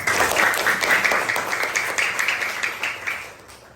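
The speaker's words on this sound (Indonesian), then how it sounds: "Tepuk tangan dong." Applause from a group, likely a classroom, after a story is told: a burst of steady clapping that holds for a few seconds and then tapers off.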